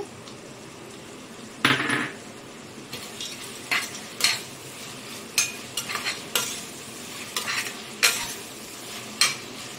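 Whole garam masala spices sizzle in a pan for Guntur Subhani hotel-style chicken ghee dum biryani, with a low steady fry broken by about ten sharp scraping stir strokes of a spoon against the pan.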